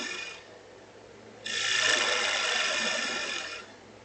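A woodturning gouge cutting wood on a spinning lathe, a brief hiss at first, then a louder sustained shearing rasp for about two seconds over the low hum of the machine, close by.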